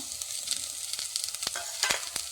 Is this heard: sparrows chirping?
no